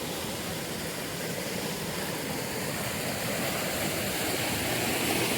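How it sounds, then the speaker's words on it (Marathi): Swollen, muddy river water rushes steadily after rain, a dense continuous roar that stays loud and even throughout with no voices. "नदीला पाणी आलं आहे थोडंसं वाढलं आहे"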